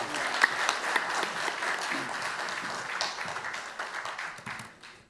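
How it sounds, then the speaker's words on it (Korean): An audience at a founding ceremony of a memorial society applauds a new chairman taking the stage, a full round of steady clapping that thins and fades out at the end. "박수 부탁드립니다."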